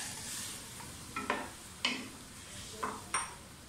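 Half-boiled peas tipped into a pan of frying potatoes for aloo mutter pulao, giving a steady soft sizzle broken by several sharp clinks and stirring scrapes against the pan, close and fairly quiet, with no talking.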